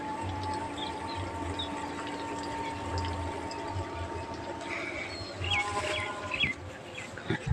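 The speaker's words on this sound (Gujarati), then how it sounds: "આપણો બોર ચાલુ થઈ ગયો પાણી પણ ચાલુ જ છે" A farm borewell pump runs with a steady low hum while water flows continuously from it, with faint birds chirping in the background and a few brief sharper noises near the end.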